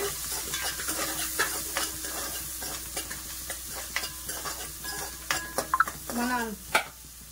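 A spoon stirs aloo chicken curry with turmeric in a pan, making soft scraping and clinking strokes over a faint sizzle, fairly quiet and close, with occasional sharper taps against the metal.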